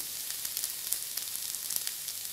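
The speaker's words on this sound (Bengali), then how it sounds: "সব একসঙ্গে এটা একটু হালকা ফ্রাই করে নেব" Ridge gourd peels fry lightly in a pan of oil, producing a continuous close crackle and sizzle with small pops scattered through the hiss.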